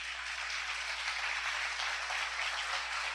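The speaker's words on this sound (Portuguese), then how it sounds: "Aplauda bem forte ao Senhor." Congregation applauding loudly for the Lord during a church service, a steady, dense wash of clapping that holds at an even level throughout, with no talk over it.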